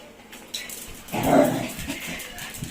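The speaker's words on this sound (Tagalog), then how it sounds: "Ito itong asong ito. Hyper na hyper." A hyper dog nearby lets out a short whimpering yelp that swells into a brief whining bark, with faint rustling around it and no clear talk during the sound.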